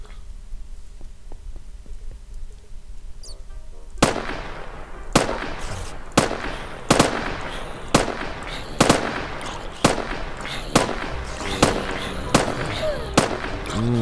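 Rapid gunfire from guns in the video game Minecraft, a series of sharp loud shots in an uneven rhythm that starts partway through after a quieter stretch of low game ambience.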